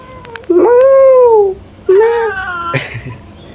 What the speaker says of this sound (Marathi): थांबाय मांजर आहे